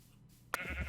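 Sheep bleating in modded Minecraft 1.8.9, a single short, close bleat that starts abruptly after a quiet moment and lasts to the end.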